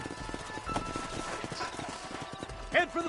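Horses in the Red Dead video game, with soft clip-clop hoofbeats and a brief whinny near the end, set under game speech and ambient sound.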